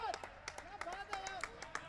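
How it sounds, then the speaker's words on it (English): A Bangladesh side cheers and claps in a cricket video game, bursts of crowd applause sounding in short repeated spurts under someone commentator's voice. "The Bangladesh team cheering on."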